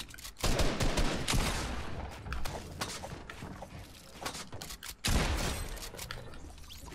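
Pump shotgun gunfire in the video game Fortnite Battle Royale: a handful of loud, sharp blasts separated by irregular gaps amid other game noise.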